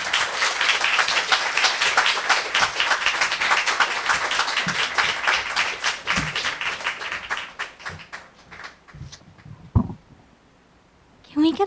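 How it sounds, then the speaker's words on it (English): At a poetry reading, the audience breaks into sustained, dense clapping that fades over several seconds. A voice speaks briefly near the end. "Can we get another round of applause for Will for opening up our reading tonight?"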